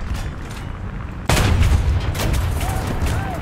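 Tank cannon fire in a War Thunder ground realistic battle: a sudden loud boom bursts in about a third of the way through, followed by a sustained rumbling wash of battle noise.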